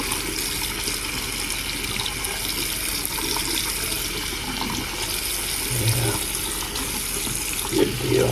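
Hot water runs steadily from a tap just after a water heater replacement, a continuous close hiss of flowing water with a brief clunk near the end.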